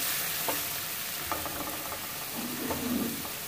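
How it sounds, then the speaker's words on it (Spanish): Chopped onion sizzles gently in a pan over low heat, a soft continuous crackle with a few light stirring scrapes and clinks, close-up and without talk. "Lo voy a bajar un poquitico más. Ahí está. Porque no quiero que mi cebolla se queme."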